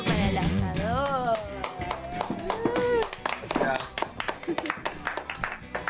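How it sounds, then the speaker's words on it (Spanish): A group claps for the grill cook at a casual gathering, a scattered run of sharp hand claps that grows denser in the second half. Lively overlapping voices talk loudly throughout. "Un aplauso para el asador."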